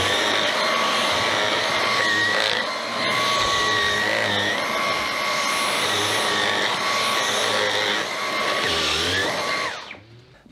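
A Dyson vacuum cleaner runs close and loud, sucking up shed German Shepherd hair with a steady whining drone that shifts slightly in pitch, then switches off at the end.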